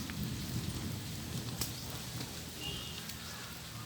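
Rain falls outdoors as a steady, even hiss that fills the whole stretch, with faint scattered drips and patters on top and no clear voices over it.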